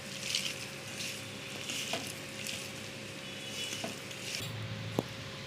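Small shrimp fritter batter is mixed by hand in a bowl, giving soft, wet squelching and rustling at a low level, with one light knock of a utensil near the end.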